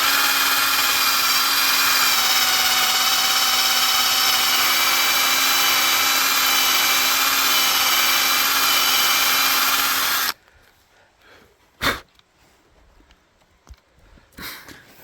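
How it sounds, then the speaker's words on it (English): A power drill bores a tap hole into a maple tree for sugaring, whining loud and steady for about ten seconds before stopping, followed by faint handling noises and a couple of short knocks. "when I pull the drill bit out, I'm going to run it a couple times in and out just to pull some of the shavings out"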